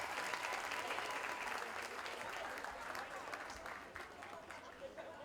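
Sustained applause from a ceremony audience for a minister and a university rector, dense and even, tapering slightly toward the end, heard at a fairly low level.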